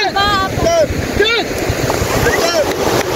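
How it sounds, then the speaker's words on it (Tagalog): Strong sea waves at Fortune Island surge and wash in a loud, rough roar buffeted by wind noise, while several people talk and call out nearby. "Medyo malakas kasi yung alon kaya."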